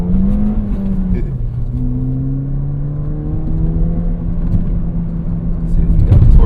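A Ford Fiesta ST accelerates hard, its engine note droning steadily, dropping once as it shifts, then climbing again and growing louder near the end.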